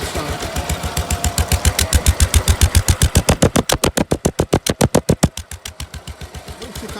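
The engine of a Ransomes MG40 crawler tractor runs close and loud, a steady rhythmic chugging whose firing pulses quicken and then ease back to a slower idle.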